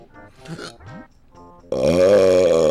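A loud, drawn-out burp from a streamer erupts after some short grunting vocal noises, a raspy belch lasting about a second at close range.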